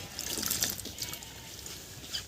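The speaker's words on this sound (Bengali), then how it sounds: "এরকম করে ভালো করে ধুয়ে নিচ্ছি" Raw and ripe jujube fruits being rinsed by hand in water, with soft trickling and splashing that comes in uneven bursts, close and fairly quiet.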